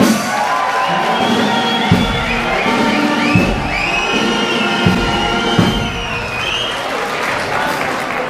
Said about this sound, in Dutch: Een goed applaus voor de jeugdprins.